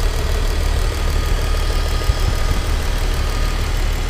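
A BMW E39 engine idles on LPG gas, a loud, close, steady rumble with an even pulsing beat and no speech over it.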